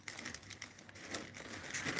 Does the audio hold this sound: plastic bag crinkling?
yes